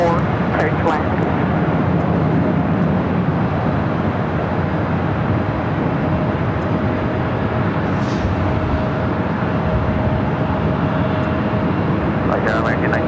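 An EVA Air airliner rolls down the runway at LAX, a loud continuous roar of jet engines that holds steady throughout, with faint voices underneath.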